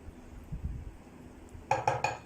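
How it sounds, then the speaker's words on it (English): A utensil knocks briefly against a bowl while flour, baking soda and salt are stirred together, giving three quick, close clinks after a few soft, muffled bumps. "Just give it a quick mix."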